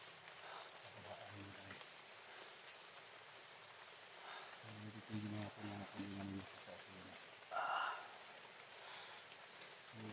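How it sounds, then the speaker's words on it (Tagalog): Soft steady rain hissing in the background while someone speaks intermittently over it, with a few low rumbling murmurs. "Ngayon dito, medyo umula pero hindi man yung malakas."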